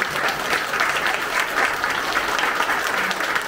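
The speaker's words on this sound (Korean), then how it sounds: "큰 박수로 다시 한번 드리겠습니다" Applause at a political party meeting with a candidate in Incheon: a full, sustained round of clapping from a roomful of people, loud and even throughout with no talk over it.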